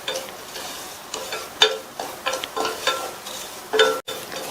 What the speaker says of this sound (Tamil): மீதி இருக்கிற நெய்யில் 1/4 கப் ரவையை சேர்த்து லோ ஃப்ளேம்லேயே வச்சு இந்த ரவையை நல்லா வறுத்துக்கங்க